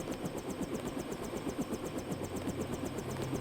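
A steady, rhythmic rotor and engine drone from a helicopter in the video game Deus Ex, constant and fairly close with a pulsing beat, heard alone.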